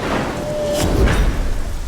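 Steady rain hisses loudly and close, and a dull rumble of thunder rolls through near the middle. There is no talking.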